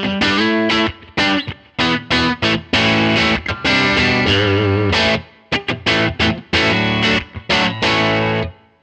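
Loud, heavily distorted electric guitar through a Line 6 Helix Tweed Blues amp model with gain cranked, playing choppy chords and short phrases up front.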